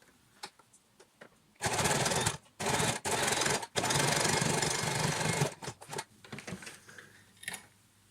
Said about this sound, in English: I want us to do a reverse stitch at the top and the bottom again, just because it's going to get a lot of wear.